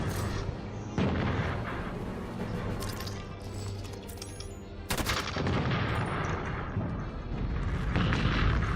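Halo 5: Guardians combat with a grenade explosion among loud, continuous gunfire and blasts, including a sharp burst near the start and another heavy impact midway, all dense and close.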